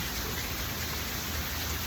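Steady, dense rain falling during a thunderstorm, a continuous hiss of drops with no thunder claps or voices standing out.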